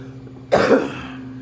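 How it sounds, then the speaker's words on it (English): A single short, harsh cough bursts out once and fades quickly, close and fairly loud against a quiet background. "I have a cough"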